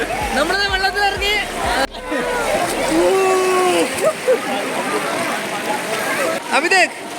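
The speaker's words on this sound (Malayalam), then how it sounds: "നമ്മളിത് വെള്ളത്തിൽ ഇറങ്ങി." Splashing and sloshing water at the Sahastradhara picnic spot, a steady wet churn under people talking and calling out nearby.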